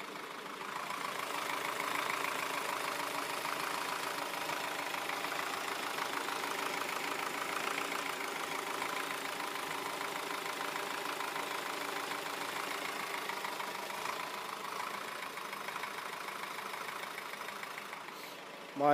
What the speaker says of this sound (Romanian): Cam ăsta e mersul motorului la rece.